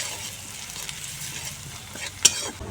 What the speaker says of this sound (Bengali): দিয়ে দিচ্ছি হলুদ গুঁড়া, জিরা গুঁড়া, লঙ্কা গুঁড়া দিয়ে এখন কষিয়ে নেব।